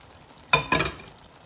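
Fried chicken drops into a hot pot for chicken khakri, making two quick close bursts of loud sizzle that fade quickly, with no speech.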